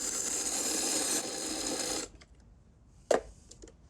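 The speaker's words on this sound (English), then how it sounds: "Good spice grinder is always nice to have." An electric spice grinder whirs loudly and steadily as it grinds juniper berries and black peppercorns for pastrami seasoning. It cuts out after about two seconds, followed by quiet and a single short clack.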